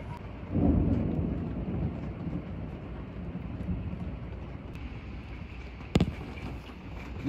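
Thunder rumbling during a night lightning storm in Memphis, Tennessee, a deep roll swelling early then fading over several seconds, followed by a sharp crack near the end, with rain hissing throughout.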